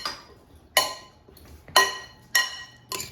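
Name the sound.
tossing potatoes to coat them with oil and seasonings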